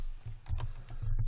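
A short burst of computer keyboard presses, several quick clicks and taps in close succession with no voices.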